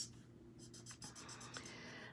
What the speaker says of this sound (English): And I'm going to color in my lighthouse.